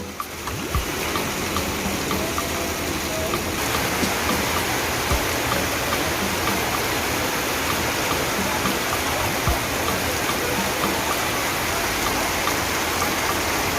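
Heavy rain pours down in a dense, constant hiss for the whole stretch at a bus stop, with occasional faint thumps beneath it.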